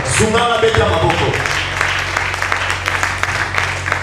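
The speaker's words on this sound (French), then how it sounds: "On applaudit Dieu et on continue." A church congregation applauds together, steady clapping filling the room over a low hum and some talking at the start.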